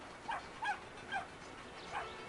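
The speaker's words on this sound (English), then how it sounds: "That dog looked like a goat." A dog in the video game Brothers gives four short, evenly spaced barks over quiet background ambience.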